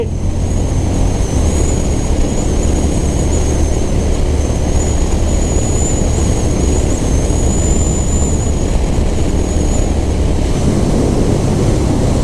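Strong wind blast roars steadily past a rider on a Honda CB350RS motorcycle at about 120 km/h, a loud continuous rushing that stays dense and unbroken throughout, with a thin high whine running through it.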